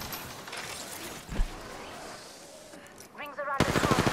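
Rapid bursts of automatic gunfire in the Apex Legends battle royale, several volleys that build louder toward the end with a mechanical clatter, no talk over them.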